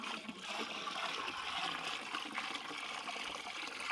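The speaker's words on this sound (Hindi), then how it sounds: "अनार का बायो एंजाइम भी मैं दोस्तों 10 लीटर इसमें मिक्स कर रही हूँ" Pomegranate bio-enzyme liquid pours into a large organic fertilizer mixture, a continuous splashing, trickling stream of moderate loudness with no talk over it.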